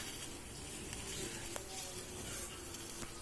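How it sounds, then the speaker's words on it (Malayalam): A steady, close hiss and sizzle of fish curry bubbling on the heat, continuous throughout with faint crackles and no talking. "അപ്പോൾ തിളച്ച് പൊങ്ങിയിട്ടുണ്ട്"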